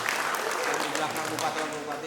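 An audience at a government development-planning forum for women, children and people with disabilities in Subang applauds steadily in a dense, even patter that fills the room at moderate volume, with no voices over it.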